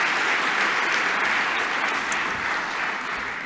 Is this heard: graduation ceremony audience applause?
yes